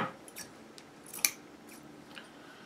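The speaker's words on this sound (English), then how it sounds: "I'm going to take some of this, it's like a lace ribbon, and I did get this from the Dollar Tree as well, and I'm going to cut a couple of pieces" Scissors snip through lace ribbon in a few quiet, separate cuts, with one sharper, brighter snip in the middle, close and alone in a hushed room.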